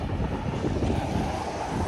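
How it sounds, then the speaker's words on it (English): Steady wind buffets the microphone on an overcast, wet morning walk after a night storm, a continuous low rumble with no gaps and no talk. "It's a bit windy today, so I apologize for that"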